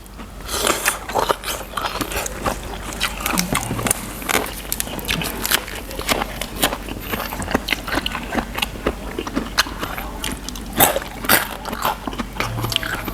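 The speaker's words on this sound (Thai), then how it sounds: "กินกรุบกรุบจ้ะ" Close, steady crunching and chewing of crisp spicy Thai papaya salad with fingernail-shaped noodles, with sharp repeated bites and a low hum underneath.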